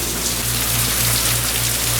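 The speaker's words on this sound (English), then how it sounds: "Lovely rainy afternoon in North Carolina." Steady rain falls on a North Carolina afternoon, a constant close hiss of drops with a low hum underneath and no voices.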